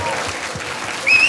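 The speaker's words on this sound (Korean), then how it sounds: "자, 훌륭한 진행자에게 박수 한번 부탁드리겠습니다." A live audience at a Korean talk concert claps for the host, a brief, dense patter of hands that swells louder near the end.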